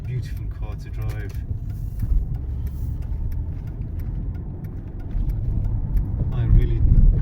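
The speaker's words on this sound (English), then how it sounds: "I really am enjoying driving this car." A Mercedes E320 cruises on the road with a steady low engine and tyre rumble that swells slightly toward the end, while someone talks over it.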